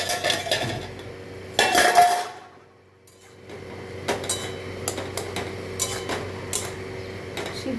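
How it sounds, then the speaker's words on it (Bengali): A metal lid clatters off a cooking pot of frying kalmi greens with shrimp, a sharp clanging scrape followed by a brief hush, then scattered light utensil ticks and taps against the pan. "চাপাটা নামিয়ে নিচ্ছি"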